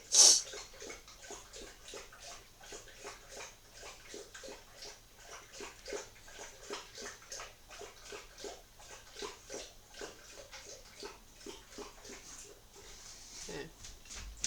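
A dog lapping water noisily in quick, rhythmic laps that continue steadily at close range, fairly faint overall, with a louder burst at the start.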